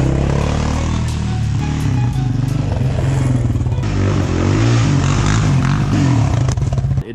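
A Yamaha Raptor quad's engine runs loud and close throughout, a dense rumbling drone with shifting harmonic tones as the revs rise and fall, with rattling clatter and no talk.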